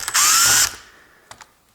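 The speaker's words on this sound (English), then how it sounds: "this Torx drill bite fits in these grooves, and next I open those" A power drill fitted with a small Torx T8 bit unscrews the casing of an electric car cabin heater, giving one loud, close whirring burst followed by a few faint clicks and handling noises.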